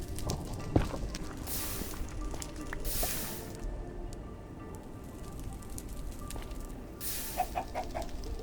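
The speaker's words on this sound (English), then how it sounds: "There's a chicken here!" A Minecraft chicken clucks faintly in an underground mining area of the game, with soft, sparse calls over a quiet background and no talk.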